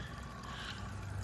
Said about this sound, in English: in behind here I've got this pondless waterfall